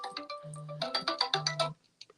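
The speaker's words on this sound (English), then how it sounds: "A, a phone call." An incoming call sets off a phone ringtone, a bright electronic melody with quick notes and held tones, ringing for under two seconds before cutting off.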